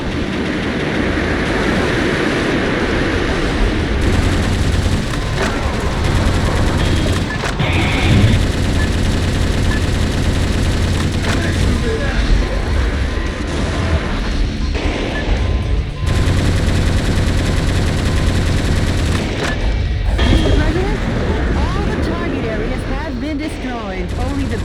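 Heavy gunfire from an enemy gun battery in the mech action game Metal Wolf Chaos XD, dense continuous blasts and rumbling explosions layered with loud game effects throughout, no pause in the barrage.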